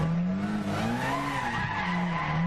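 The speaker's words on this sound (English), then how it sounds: "as I always start out with doing burnout" Sustained tire squeal from a car burnout in Gran Turismo 6, a steady wavering screech with engine drone underneath, loud and continuous throughout.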